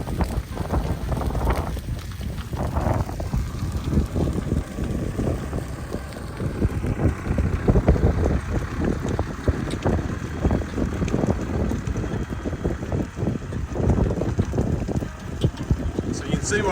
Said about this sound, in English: the wind is fairly strong